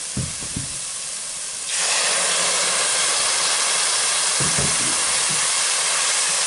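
White wine or water boils down hard in a hot pan while fish cannelloni are being prepared. A quieter hiss swells suddenly into a loud, steady steamy sizzle, with a few soft knocks.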